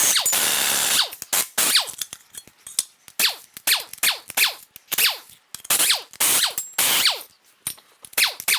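Main cap bolts on a Ford 4.6L Modular 2-valve V8 being loosened with a ratchet, a long run of fast clicking bursts in short repeated strokes with brief pauses between, close and clear with no talking.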